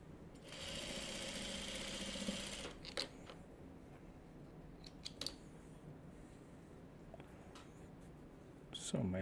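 A sewing machine joins quilt block pieces in a faint, brief run of stitching lasting a couple of seconds, followed by quiet handling clicks and rustles of fabric.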